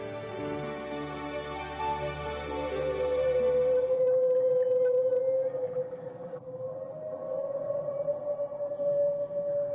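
Underwater calls of humpback whales form long, drawn-out tonal moans that slowly bend in pitch. They are mixed with a low rumbling background, sit in the middle distance and carry no speech.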